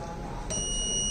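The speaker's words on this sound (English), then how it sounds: "So as the audible indication from the buzzer" An electronic buzzer on a battery monitoring system for electric vehicle battery packs sounds a steady high-pitched tone, starting partway through over a low background hum.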